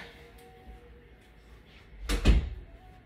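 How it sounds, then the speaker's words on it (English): A single door thuds shut near the microphone, a brief low bump standing out from quiet room tone. "Let me close my door."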